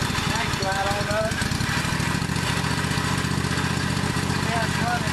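A 1998 Husqvarna riding lawn mower engine running on partial choke and surging, a loud, steady mechanical drone close by with a voice talking over it.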